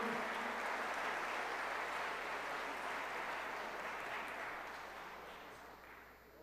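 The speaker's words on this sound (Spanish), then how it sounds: "Fuerte el aplauso para el estado anfitrión." An audience applauds for a host-state contestant at a Mexican national improvised-speech competition, 2016. The steady, dense clapping fills the room and slowly fades toward the end.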